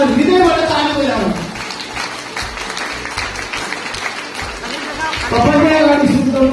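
An audience claps steadily through a dense, sustained wash of applause while a voice speaks over the opening and the end.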